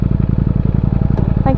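A Ducati Panigale V4S motorcycle engine running loud and close with a fast, pulsing throb, followed by a brief clunk near the end as a gear engages.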